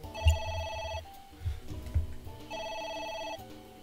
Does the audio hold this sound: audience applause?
no